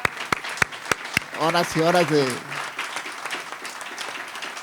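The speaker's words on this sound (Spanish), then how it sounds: "yo quiero al menos que les dediquen un aplauso a ellos" Audience applause at a book presentation, a few sharp distinct claps followed by a brief spoken voice, then a softer continuous patter of clapping.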